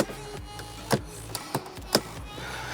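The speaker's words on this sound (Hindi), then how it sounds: "और ये एसी वेंट्स क्लोज हो जाते हैं।" Air-conditioning vents snapping shut inside a Ford Figo Titanium car: a couple of distinct plastic clicks, close and fairly crisp, separated by quiet cabin hush with no talking.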